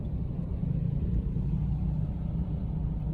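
A jeep on a road trip in Laguna gives off a steady low engine rumble, constant and close with no voices over it.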